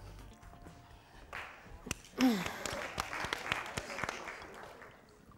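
A studio audience on a 2009 Georgian talk show breaks into applause, a short burst of clapping that swells and carries on under faint background voices.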